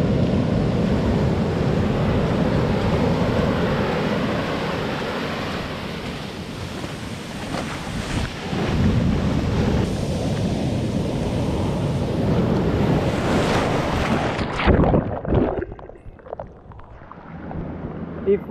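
Sea waves crash against rocks on the Portuguese coast in November, a continuous loud wash of surf and spray with wind buffeting the microphone, surging again before dropping away near the end.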